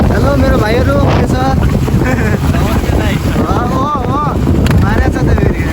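Strong wind buffets the microphone during an outdoor ride, a loud, constant rumbling roar under someone talking the whole time.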